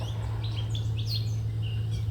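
Hairy woodpecker chicks begging in a nest cavity, thin high squeaky calls in quick bursts over a steady low hum.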